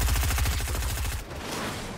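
Rapid automatic gunfire in Fortnite rattles in a fast continuous burst, loud and close, then cuts off to quieter background noise.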